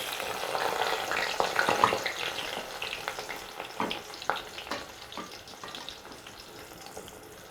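Onions hit hot oil that already holds cloves and fry with a loud, crackling sizzle that slowly settles into a softer hiss, with scattered taps from stirring; no voices.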